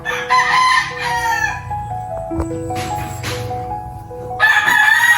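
A fighting rooster crows loudly and close by, its call repeating in long strained bursts, while other roosters answer faintly in the distance.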